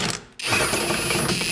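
A Hercules impact wrench whirs steadily as it spins a rusty nut off a rear shock on a 2002-2007 Jeep Liberty, after a brief pause in a close, continuous mechanical buzz.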